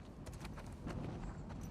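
Horse hooves clatter on the floor of a library in the video game The Last of Us Part II, a quick run of dense, crisp clip-clop steps over steady background noise.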